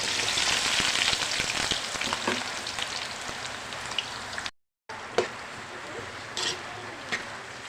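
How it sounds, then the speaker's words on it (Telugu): Bitter gourd pieces crackle and sizzle in plenty of hot oil, a dense steady frying hiss with a brief drop-out midway, then continuing with a few sharper pops. "ఆయిల్ హీట్ అయిందండి కాకరకాయ వేసుకుందాం"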